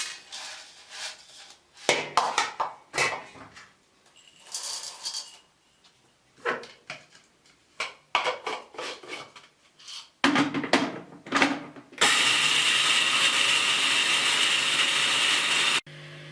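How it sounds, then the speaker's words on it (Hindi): Roasted chickpeas are handled in an open container with irregular clatters and knocks, then an electric grinder kicks in with a loud, steady whirring grind for about four seconds before cutting off. "हम थोड़े थोड़े करके चने ग्राइंड कर लेंगे"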